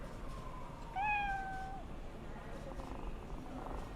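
A cat in the video game Cyberpunk 2077 lets out a single short meow, fairly clear over a steady game background hum, with no talk.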